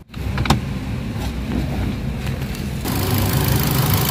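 A Ford EcoSport engine with automatic transmission idles close by with a steady low rumble and light ticking, growing slightly louder near the end.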